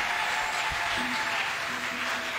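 A church congregation applauds and cheers loudly at a French-language revival service, broad continuous clapping and voices filling the space throughout with no pause.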